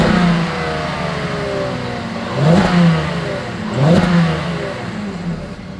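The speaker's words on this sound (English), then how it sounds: "As always, here is that exhaust clip." Exhaust of a 2021 Volkswagen Atlas SUV at idle, blipped twice into short revs that swell and drop back, recorded close and loud with no talking.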